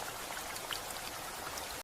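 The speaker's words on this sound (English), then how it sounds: "Now rain crashed violently outside" Steady rain pours down outside, a dense, even hiss of drops with a few louder individual splashes, continuous throughout.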